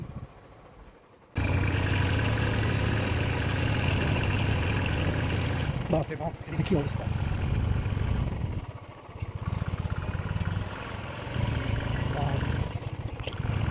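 A motorbike engine starts up and runs with a steady low rumble on a hilly village road, holding fairly even with small dips, while people talk over it.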